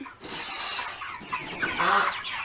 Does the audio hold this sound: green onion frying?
no